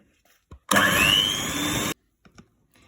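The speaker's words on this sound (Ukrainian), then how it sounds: "Обов'язково беремо охолодження і збиваємо у стійку пишну масу." An electric mixer whips chilled cream into stiff, fluffy peaks in a bowl, giving a loud, steady motor whir of just over a second that starts and stops abruptly, with faint clicks before and after.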